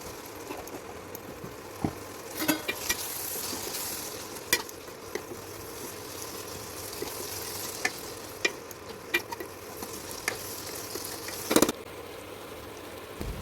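Drumstick curry with chili powder simmers and fries in a pan over a medium flame. A steady soft sizzle runs under repeated clinks and scrapes of a spoon stirring against the pan.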